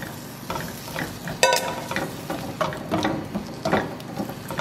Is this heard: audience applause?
no